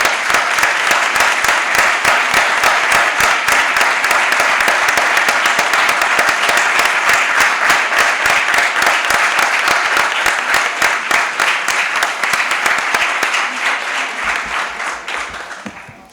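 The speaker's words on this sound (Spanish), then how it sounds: "Un aplauso para todos ustedes." Loud, sustained applause from a large audience at the closing of a two-day plurilingual education conference, dense steady clapping for about fourteen seconds before tapering off at the end.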